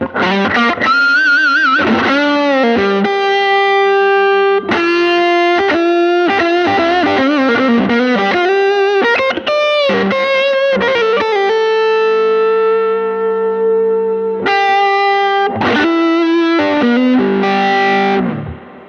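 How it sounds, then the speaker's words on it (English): An electric guitar runs through a Tube Screamer overdrive pedal, with delay on, on a blues pedalboard through a turned-down amp, playing sustained, saturated notes and chords in loud, continuous phrases with brief pauses. "the tube screamer stays on, so let's hear some of that with the current settings"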